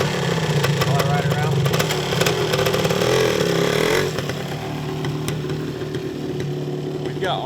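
1977 Yamaha DT400 motorcycle engine running, a loud continuous buzzy drone nearby that eases slightly partway through, with someone talking over it.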